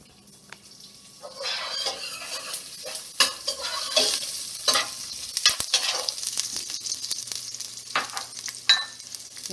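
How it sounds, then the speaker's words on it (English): Finely sliced garlic frying in hot oil for sambar, stirred gently: a continuous close sizzle broken by repeated scraping, clinking stirs of a spoon against the pan, with no talking. "I'm going to gently stir it."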